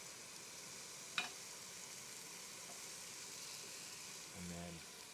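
A pork chop sizzling faintly in a pan after deglazing, a soft steady hiss with a brief sharp clink early on and a short low stir or scrape near the end.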